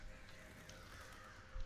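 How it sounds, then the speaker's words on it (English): Crows cawing in the Black Ops 3 campaign, faint and distant harsh calls over a low ambient wash, with a brief louder thump near the end. "Not the fake crows."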